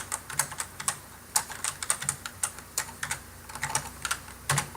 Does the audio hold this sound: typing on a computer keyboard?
yes